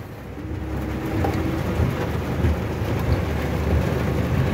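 A dawn thunderstorm beside a canal and a tree brings a dense, steady hiss of heavy rain over low rolling rumbles of thunder, with no talk.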